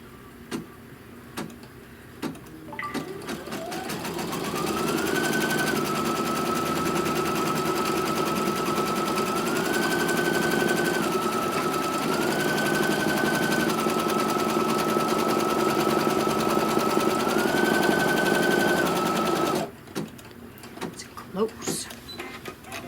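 Embroidery machine stitching a tack-down over batting on a trapunto pillow, a sustained buzzing hum with a motor tone that shifts pitch in steps, between short clicks and handling noises at the start and end.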